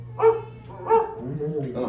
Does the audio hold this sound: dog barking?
yes